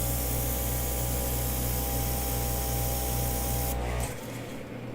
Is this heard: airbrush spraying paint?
yes